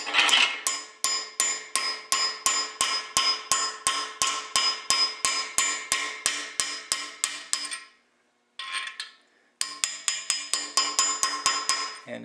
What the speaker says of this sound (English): And then take your hammer, line up your punch or bolt or whatever you're using.